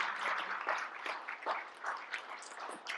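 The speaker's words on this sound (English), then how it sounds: "Big round of applause for some of you." Audience applause for legislators at a chamber of commerce send-off event, scattered and fairly faint clapping from a modest crowd with uneven bursts.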